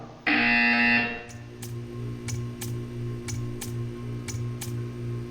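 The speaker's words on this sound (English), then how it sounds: "You will hear a buzzer." A loud electronic buzzer in the game Portal 2 blares for about a second, followed by a slow series of regular clicking ticks over a low steady hum.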